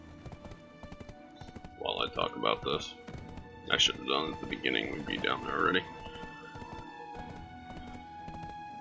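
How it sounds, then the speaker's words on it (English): A horse in the online game Black Desert Online runs along an auto-path, its hooves clip-clopping in a steady, even rhythm throughout while a person talks over it partway through. "let my horse run while I talk about this."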